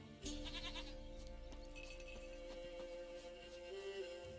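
Goat bleating in The Witcher 3: Wild Hunt next-gen game, a stubborn hoofed and horned animal, heard as bleats mixed with game music and ambient sound, with no talk.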